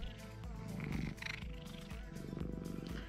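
A cat purrs close up with a deep, rhythmic rumble that pulses steadily, fairly loud and without talking.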